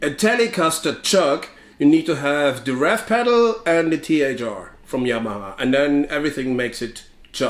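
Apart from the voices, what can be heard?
No everyday noises stand out.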